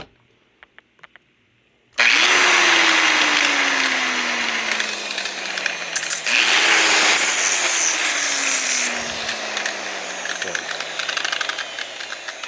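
Angle grinder finishing metal on a Mopar project, a loud sustained broadband whine starting after a short quiet lead-in, with two bursts where the pitch spins down and drops as the disc slows, close and continuous.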